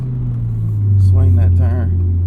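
Close, loud engine drone of a 2025 Toyota GR86 Hakone Edition from inside the car, rising midway as the revs climb, with induction noise; someone talks over it.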